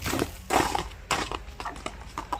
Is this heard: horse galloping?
yes